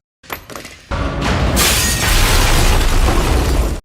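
A grenade goes off in a film action scene: a few brief knocks, then a sudden loud blast that rolls on as a dense, roaring rumble with shattering debris.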